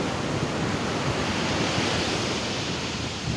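Big sea waves after a typhoon in Tanza crashing against a flooded roadside, a steady, loud roar of surf and spray mixed with wind buffeting the microphone.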